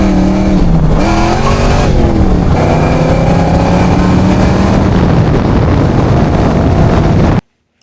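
A supercharged Ford Fox body car fitted with a Vortec V3 kit runs with a loud, steady engine roar, its pitch swinging up and down through several revs before cutting off abruptly near the end.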